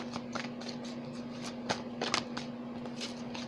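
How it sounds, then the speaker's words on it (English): Tarot cards being shuffled by hand give soft, irregular riffling and flicking bursts, close and fairly quiet, over a faint steady hum. "let's shuffle again"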